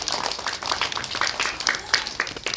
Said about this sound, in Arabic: تصفيق على بوبي